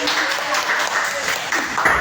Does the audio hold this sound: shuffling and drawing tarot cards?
no